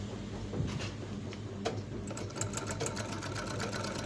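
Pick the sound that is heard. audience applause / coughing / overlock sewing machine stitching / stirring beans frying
overlock sewing machine stitching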